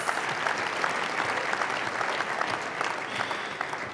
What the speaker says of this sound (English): all the nominees deserve a round of applause